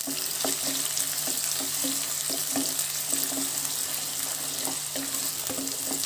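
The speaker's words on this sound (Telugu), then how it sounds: "ఇందులో కొద్దిగా కరివేపాకు వేసుకుందాము. కొద్దిగా కరివేపాకు వేసుకోవాలి." Curry leaves fry in a pan of oil with onion, giving a continuous bright sizzle and crackle with faint rhythmic stirring taps underneath, steady and close throughout.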